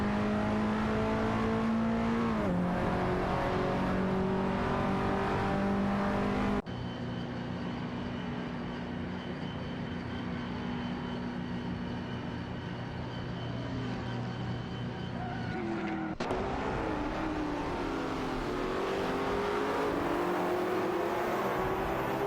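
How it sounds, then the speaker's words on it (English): Race cars in an AI racing video game roar continuously, engines revving and rising in pitch with sharp cuts between shifting engine tones, loud and sustained with no talking. "Automobile dashing away."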